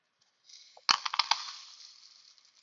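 Crushed glass is scooped with a small yogurt tub scoop, giving a sharp gritty crunch followed by a quick run of clinking, rattling grains that trail off into a soft hiss.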